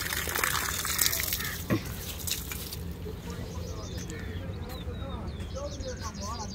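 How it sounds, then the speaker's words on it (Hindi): Water trickles and dribbles onto mint plants in a village yard, a soft continuous flow with faint splashes, while voices murmur in the background. "पुदीना मैंने इधर लगाया था, इसको पानी दे दूँ"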